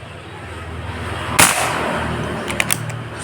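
A single sharp crack from a Yumaja Sempiternal air rifle firing a pellet, near and loud over faint background hum, followed by a couple of small ticks.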